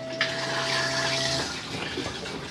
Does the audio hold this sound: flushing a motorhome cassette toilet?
yes